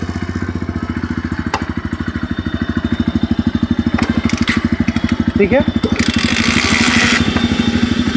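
A Bajaj Pulsar 125 motorcycle in neutral is kick-started and settles into a steady, close, rapid-thumping idle, with a brief spoken word and some clatter and hiss over the running engine.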